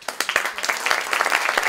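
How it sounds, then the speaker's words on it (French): Audience at a science event claps to welcome a guest, Pierre-Louis, starting with a few separate sharp claps that quickly build into fuller, close applause. "vous avez compris qu'il faut les applaudir"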